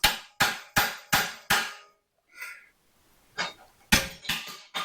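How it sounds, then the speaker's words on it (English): Metal blows splitting a Volkswagen engine piston in half during an engine teardown: five sharp, evenly spaced strikes, a short pause with a faint scrape, then several more hard hits, close and loud with no talk. "you can split the piston in half"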